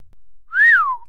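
A single short whistle from a person, one clear tone rising then falling in pitch, close and distinct against near silence.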